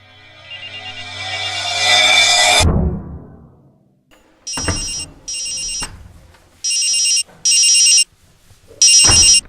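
A mobile phone rings inside a house: a loud sweeping whoosh cuts off, then five bright electronic ringtone bursts follow in a steady on-off rhythm, close and clear with no talking.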